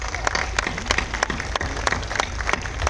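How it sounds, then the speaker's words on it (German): An audience claps at a car presentation event for the Volkswagen Golf Vision GTI Gran Turismo, a brisk patter of many hands that stays loud and steady through the short stretch. "Vielleicht einen kleinen Applaus."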